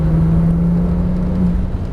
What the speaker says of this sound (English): all the way down on the throttle now